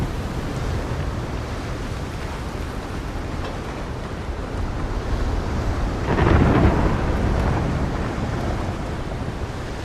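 A thunderstorm in the video game Windrose: steady broadband rain-like rumble throughout, swelling into a louder thunder roll about two-thirds of the way through, with no talk.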